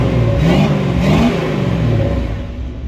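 A 1970 Dodge D100 pickup engine, recently fitted with a new cam, revs loud and close with a throaty rise and fall, then settles back toward idle.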